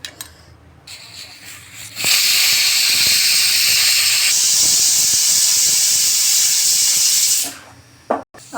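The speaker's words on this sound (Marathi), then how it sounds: "आपल्या कुकरच्या शिट्ट्या झालेल्या आहेत" A pressure cooker of drumstick (shevga) vegetable on the stove lets off a loud, sustained whistle of escaping steam lasting about five seconds, with quiet kitchen sounds before and after.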